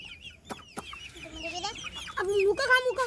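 Chicks being fed give close, bright cheeps and clucking calls, with a couple of sharp knocks early on, rising to louder chirps toward the end.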